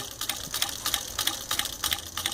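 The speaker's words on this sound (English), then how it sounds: "you can just let it stitch real nice and slow" A Pfaff 483 single-needle industrial sewing machine with a servo motor stitches slowly, giving an even, rhythmic ticking of stitch beats about three per second, close and steady with no talking.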